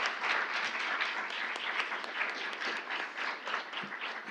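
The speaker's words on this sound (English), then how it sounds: "So let's give him a round of applause." An audience at a university graduate education awards ceremony applauds, a continuous, fairly dense patter of many hands clapping heard from a moderate distance and holding steady for a few seconds.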